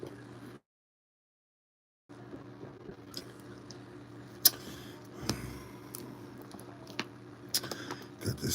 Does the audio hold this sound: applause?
no